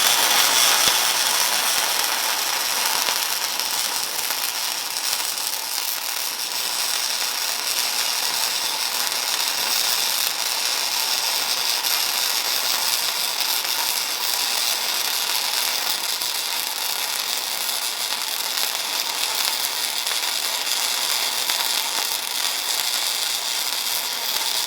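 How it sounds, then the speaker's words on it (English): Steady, loud crackling and sizzling of flux core welding on 1/8 inch steel with Blue Demon wire in a YesWelder Flux 135, continuous and unbroken throughout. "I'm using Blue Demon here in the YesWelder"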